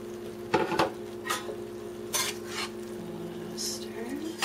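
A utensil stirs tomato soup into sautéed onions in a pot for spinach tomato beef chili, with a few scraping, clinking strokes spaced apart over a soft background hum, nearby and without talk.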